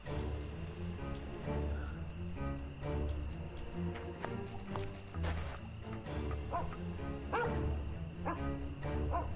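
A dog barks several times in a busy, noisy video game scene, the barks mixed into a dense layer of background sound and activity.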